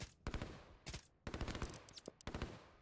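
Rapid gunfire rakes commandos in the video game Line War: quick bursts of machine-gun fire with short gaps between them, sharp and crackling, fairly faint overall and with no voices.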